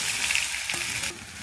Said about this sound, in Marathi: आता परतून घ्यायचे.